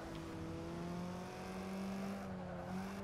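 A Porsche race car in the video game Forza 6 holds a steady, tonal engine whine as it drives, with pitch rising and falling slightly through the run.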